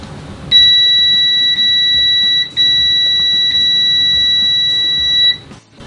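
A UNI-T UT39E+ multimeter's continuity beeper sounds at maximum volume, a loud, piercing steady electronic tone held for about five seconds with a couple of brief dips, close and alone.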